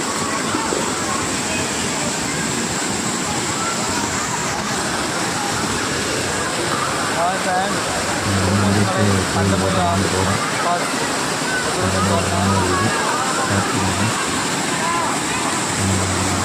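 A constant rushing roar of falling water at a waterfall in the Thirumoorthi Hills fills the scene, steady and broadband, with people's voices and chatter mixed beneath it.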